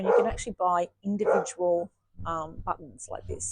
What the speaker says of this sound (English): that's my dog saying hello to somebody